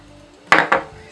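Ingredients with a pinch of salt pounded in a mortar, two quick hard knocking strikes close by, the second slightly softer, over a quiet background.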